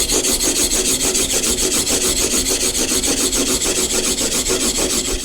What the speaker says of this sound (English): all it took was just those few passes to get a nice, dull, even sheen across the whole blade